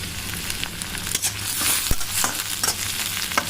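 Chopped onion and two ripe medium tomatoes frying and being stirred in a pan, a steady close sizzle with scraping stir strokes and a sharp clack near the middle, no talk.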